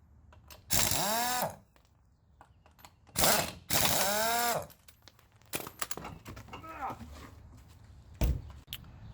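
A ratchet turns an 18mm socket on the rear bolt of a car's brake caliper during wheel hub bearing work, making loud squealing bursts followed by quicker clicking and rattling turns close up.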